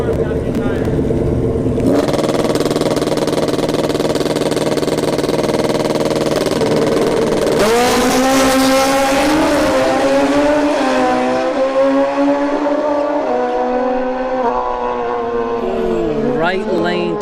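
Drag racing motorcycles, a Suzuki Hayabusa and a custom Kawasaki, roar down a bracket-series strip. Loud, continuous engine noise builds to a sharp, rising rev midway, then fades slightly toward the end.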